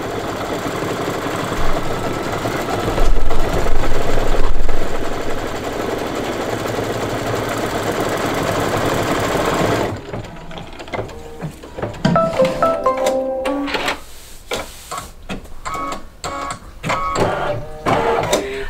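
An embroidery machine rapidly stitches dark red leaves with a steady mechanical chatter, then continues in choppier stop-start bursts with clicks and thumps, close and loud.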